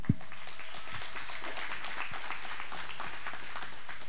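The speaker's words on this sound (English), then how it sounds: "let's give him an applause." Faint, distant congregation applause at a Sunday church service for a high school graduate named Brian Arnell, a thin, even patter of claps after a single sharp knock.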